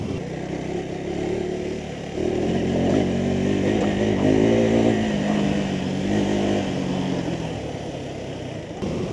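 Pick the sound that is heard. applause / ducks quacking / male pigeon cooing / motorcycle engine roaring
motorcycle engine roaring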